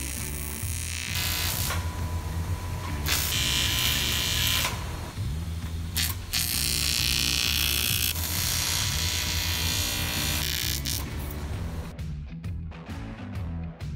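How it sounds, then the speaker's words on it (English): Welding on a bike frame joins a tube to the main tube, a continuous loud buzzing hum with bursts of brighter crackle that stop and restart several times before a quieter finish. "The first weld is to the main tube"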